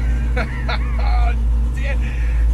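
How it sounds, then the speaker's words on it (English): Engine fitted with ACES EFI idling steadily around 800 RPM, a loud, continuous low rumble heard close up, with someone speaking over it. "I'm idling right now at 800, okay, it fluctuates between 830 to 870 RPM"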